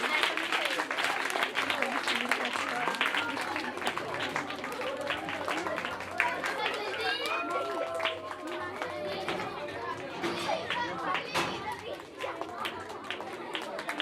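Crowd at a school Christmas celebration with kids, filling the room with continuous clapping, chatter and children's voices, with some running about, all close and fairly loud.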